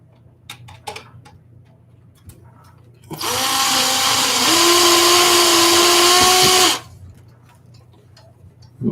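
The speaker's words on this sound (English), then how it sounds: "I think I got to re-drill this hole." A power drill re-drills a hole in a board with one loud, steady whir lasting about three and a half seconds. Quiet clicks and handling noises come before and after it.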